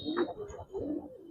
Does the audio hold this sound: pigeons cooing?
yes